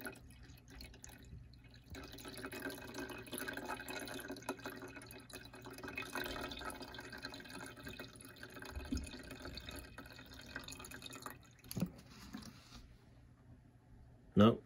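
Water trickles and drips into an air conditioner's condensate pan during a pump test, a low steady pour heard close under background hum, with a brief clunk near the end.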